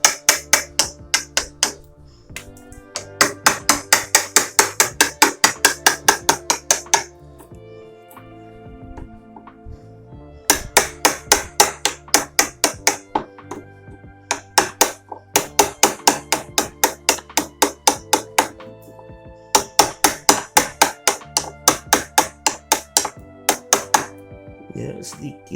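Hammer driving a chisel into wood to carve a shallow door hinge recess: bursts of rapid, evenly spaced sharp strikes in several runs separated by short pauses, close and crisp, with faint talk between.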